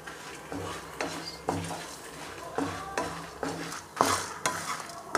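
Dry red chillies and spices are roasted and stirred in a pan for a Tamil vatha kuzhambu, with a spoon scraping in a steady repeating rhythm over a faint sizzle, close and moderately loud.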